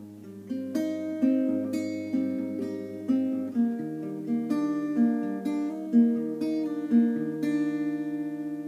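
A clean guitar riff repeats with plucked notes and smoothly slurred hammer-ons, steady rhythm with regular accents, played close and alone.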